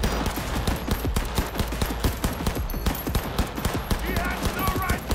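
Submachine gun fire in Cyberpunk 2077 rattles in rapid, continuous bursts of closely spaced shots, loud and near, running steadily for several seconds during a heist mission firefight.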